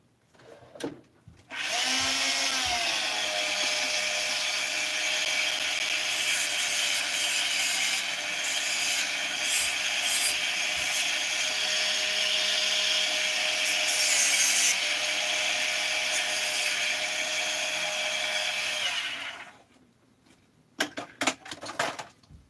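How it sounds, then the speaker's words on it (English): A small steel E-clip from a 262XP chainsaw part is ground down with a high-pitched rotary grinder, one long continuous whine with varying contact scraping, stopping near the end with a few brief clicks. "I'm taking the E-clip and just grinding a little bit"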